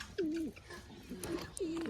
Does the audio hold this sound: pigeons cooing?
yes